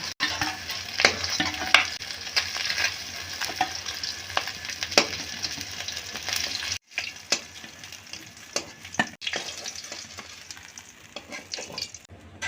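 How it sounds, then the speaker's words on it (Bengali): Fish sizzling as it fries in a hot pan at home, a continuous bright crackle with occasional stirring scrapes and a brief pause partway through, no talking. "এখন বাকি মাছগুলো আমি একটু টুকুচ করে ভেজে নেব"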